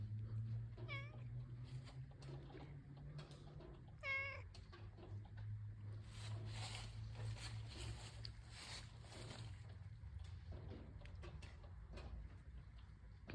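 A hungry cat meows repeatedly at close range early in the morning after rain, with a few clear meows standing out over a steady low outdoor hum and some faint background noise.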